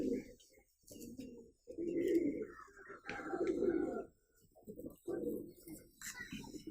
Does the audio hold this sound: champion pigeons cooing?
yes